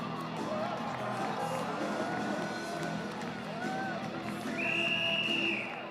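A rodeo crowd cheering for a bareback bronc rider, sustained shouts and whoops from a large audience with a whistle near the end and voices mixed in.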